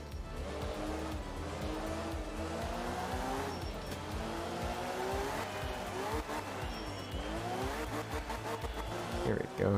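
A rally car drifting on a gravel stage in Art of Rally, engine revving and sweeping up and down in pitch with tires scrabbling and skidding, loud and steady, with someone talking over it.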